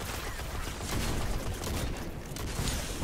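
Shotgun fire in a video game comes as a dense, continuous barrage of booming blasts layered with noisy clatter, loud and close throughout with no talking.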